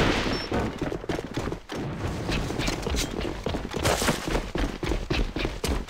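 Rapid gunfire in the online shooter AVA during a tournament match, with dense bursts of shots and booming impacts that continue almost without a break.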